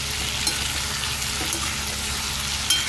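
Stuffed brinjal fries in hot oil in a pan with a steady, soft sizzle and a few faint clinks, close by and with no talk.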